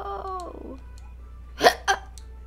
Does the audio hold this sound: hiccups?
yes